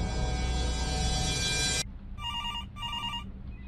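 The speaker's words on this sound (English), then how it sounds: "Your phone's been going off for like 5 minutes." A telephone rings with loud, continuous bright tones for nearly two seconds, stops abruptly, then gives two shorter ring bursts separated by brief gaps, heard alone without talk.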